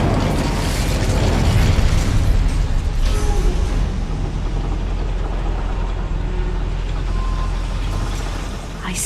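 Incendio fire spell cast in Hogwarts Legacy inside a goblin mine, a loud roaring whoosh of flame that swells then settles into a steady rumbling burn.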